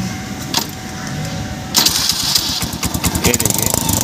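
An electric self-start cranks a motorcycle engine after a wiring repair. A quiet hum gives way to a sudden start, then a close, rapid, throbbing idle beat, with faint voices in the background.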